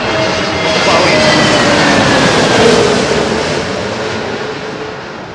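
Big jet airliner passing overhead on approach or departure at London Heathrow, a loud sustained roar that swells and slowly fades, with faint talk underneath.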